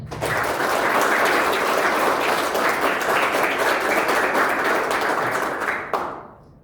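A large audience in the hall at an Indonesian presidential and vice-presidential inauguration ceremony gives sustained, even applause for about six seconds before it cuts off sharply.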